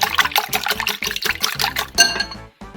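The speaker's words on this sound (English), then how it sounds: "we're gonna go ahead and whisk our egg." An egg being whisked in a bowl makes a quick, rhythmic series of wet clinks and sloshes, close up, about a dozen rapid strokes ending in a brief pause.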